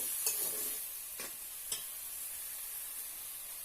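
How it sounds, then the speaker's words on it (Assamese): Banana flower curry frying in a pan over a lowered flame, with a faint steady sizzle broken by a few soft scraping clicks from stirring. No one speaks. "অকণমান কম জুইত ভাজিব লাগিব।"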